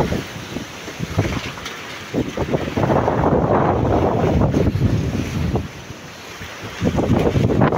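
Strong wind roars steadily across the microphone aboard a fishing boat at sea, with gusty buffeting and rushing water and wave noise beneath, no talking.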